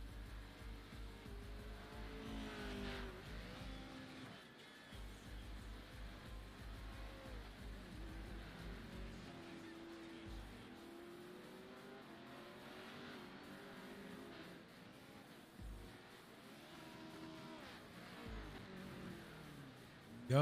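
A dirt race car laps the track at Crandon, its engine droning and rising and falling as it revs through the turns, heard at a distance and moderately loud with no talk.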